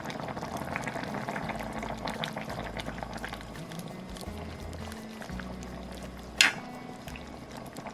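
Tomato vegetable soup simmering in a pot, a soft continuous bubbling and burbling close by, with one brief sharp clink near the end.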